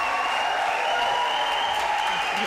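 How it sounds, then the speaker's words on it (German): Thunderous premiere applause from a theatre audience after an inclusive stage production, a dense, steady wash of clapping that holds loud and unbroken throughout. "Tosender Applaus für eine gelungene Inszenierung."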